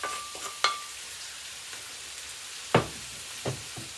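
Scrambled eggs frying in a pan with softened onions make a soft, steady sizzle, broken by a few sharp utensil knocks and scrapes.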